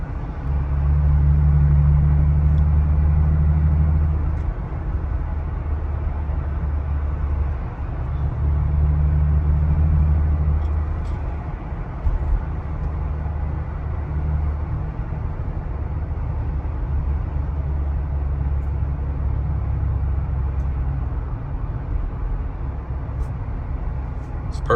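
Jeep Gladiator with an S&B cold air intake heard from inside the cabin with windows up, a low steady engine and road drone with two louder humming swells early on, and faint talk.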